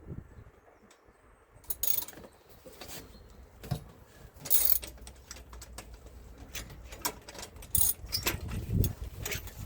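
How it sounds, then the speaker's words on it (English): A BMX bike being stripped down by hand, heard as close, scattered metallic clinks, jangles, ratcheting and rattles of parts and tools, some sharp and bright, spread irregularly over a quiet background without speech. "So I'll start with completely stripping the bike down."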